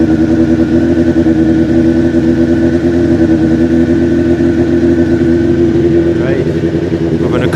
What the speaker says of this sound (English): Turning the fuel on always helps. It's got a manual choke. Helps if I turn the key.